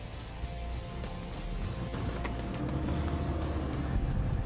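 A 4x4 vehicle's engine drones steadily and close as it climbs a hill, a low continuous rumble that holds without a clear stall or cutoff.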